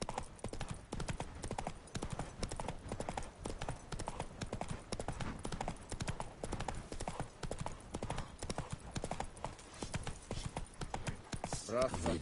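Hooves clip-clopping through The Witcher 3 on PS5, a steady galloping beat heard up close and loud the whole way, with a brief burst of other game sound right at the end.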